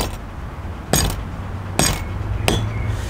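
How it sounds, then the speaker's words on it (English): A hammer gives three sharp metallic taps to a sheet metal rust-repair panel for a 60 Series Land Cruiser, at uneven intervals, each with a brief bright ring, over a low steady background hum. "Might just need a quick hit with the hammer along there to give it that slight, very slight curve"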